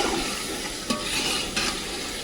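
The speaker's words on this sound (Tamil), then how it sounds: "கொஞ்சம் அப்படியே அந்த எண்ணெயிலே வேகட்டோங்க. அனல் மெதுவாக வைங்க, அடி பிடிச்சிட போது." Mutton biryani base cooking gently in oil over a low flame, a steady soft sizzle with a couple of brief stirring scrapes, fairly close and alone without talk.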